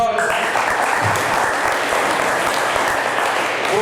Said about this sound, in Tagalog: Pumalakpak muna sa Panginoon.